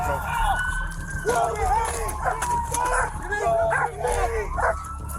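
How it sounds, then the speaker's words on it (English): A dog barks repeatedly in short, excited yips and woofs, fairly close, mixed in with people talking over it. "He been barking and carrying on."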